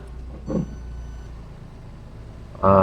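Reversing beeps sound from a car as it shifts into reverse gear: a short beep, a pause over a low engine hum, then a louder, sustained beep tone.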